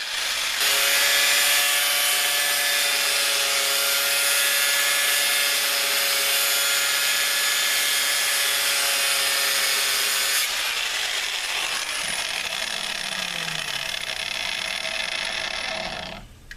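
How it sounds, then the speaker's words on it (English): A loud, steady whine of a power tool cutting continuously for several seconds, then shifting in pitch as it winds down to a stop. "I love power tools, so I'm gonna go ahead and cut this off"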